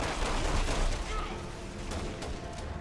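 Gunfire in the video game Resident Evil 6, a dense, continuous roar of shots and blasts that stays loud and busy throughout, with a speaking voice mixed faintly underneath.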